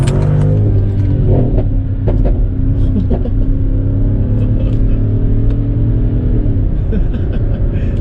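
A Mercedes ML63 AMG engine roars loudly as it accelerates hard onto a highway, the exhaust rumbling and revving close by without pause.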